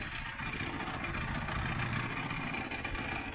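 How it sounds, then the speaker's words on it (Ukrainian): A tractor-driven generator engine drones continuously at moderate distance, a low mechanical rumble running without pause or change in pace. "Він працює генератор, трактор"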